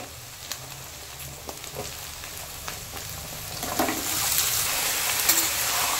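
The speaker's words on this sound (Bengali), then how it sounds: "পেঁয়াজ কাঁচা লঙ্কার সাথে আলুটাকে ভালো করে একটু ভাজতে হবে" Onion, green chili and potato fry in hot oil for a fish roe dish, a soft crackling sizzle that builds louder and denser toward the end, with faint stirring clicks and no voices.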